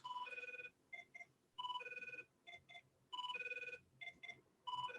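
A telephone bell rings in repeated electronic trill bursts, several rings with short gaps between them, loud and clear, interrupting a podcast conversation with no talk over it.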